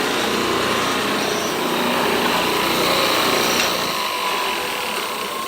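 A power tool grinds a knife's bevel edge on a jig, giving a continuous high whining drone with steady grinding noise, close and unbroken.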